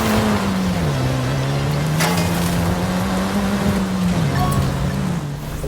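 A Mercedes AMG GT4 racing car drives in a video game, its engine a steady loud drone whose pitch rises and dips slightly, sustained throughout and easing off at the end, with no talking.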